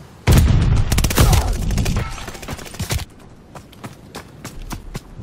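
A stun grenade goes off in Call of Duty Vanguard amid a loud burst of rapid gunfire, then the firing thins out into scattered shots and clatter.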